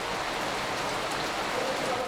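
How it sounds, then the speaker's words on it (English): Steady rain falls and hisses across wet streets at an outdoor British motoring event, a continuous broadband wash with no distinct drops standing out and no talk. "they seem to be getting a real tradition of raining all day"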